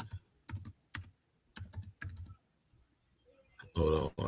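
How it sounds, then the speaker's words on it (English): Computer keyboard typing comes in quick clustered bursts of close, crisp key clicks separated by short pauses, ending with a brief louder noise. "I thought I was typing."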